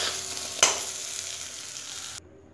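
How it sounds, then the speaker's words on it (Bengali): Eggplant frying in oil in a wok gives a steady, close sizzle with a short clatter of stirring near the start. The sound cuts off sharply just before the end, and no one speaks. "বেগুনটাকে দিয়ে বেগুনটাকে এবার ভালো করে ভেজে নেব"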